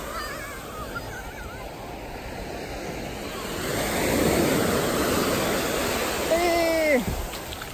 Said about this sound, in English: Got a spot on the beach.